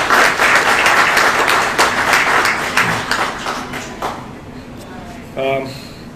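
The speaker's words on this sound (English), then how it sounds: "So if everybody can give a round of applause to our staff, they really knocked it on the heart." An audience claps for store staff at a supermarket grand opening, brisk applause that fades out over several seconds before a short chime-like tone near the end.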